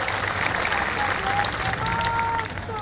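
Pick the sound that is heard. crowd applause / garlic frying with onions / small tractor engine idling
crowd applause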